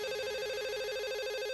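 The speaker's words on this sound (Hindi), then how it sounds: "फोन आ गया उसका फिर से।" A telephone rings steadily and fairly quietly in a home scene, a continuous electronic warbling ring with no talk over it.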